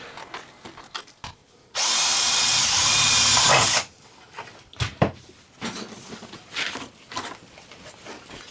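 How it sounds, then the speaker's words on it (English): A power drill bores a hole during work on a glass fusing kiln, one loud steady burst of about two seconds, with quieter handling clatter before and after. "Let's drill a hole for that."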